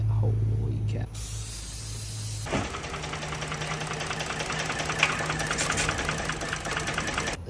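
A Ford 3.5 liter Cyclone car engine runs steadily with a low, continuous rumble and mechanical clatter, preceded by a brief louder burst of noise at the start.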